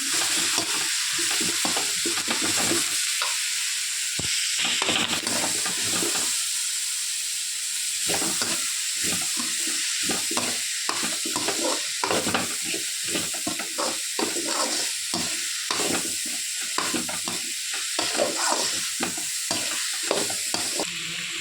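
Cabbage and carrot being stir-fried for Tamil pori rice, a constant close sizzle with rapid, rhythmic scraping of a spatula against the pan throughout, no voices.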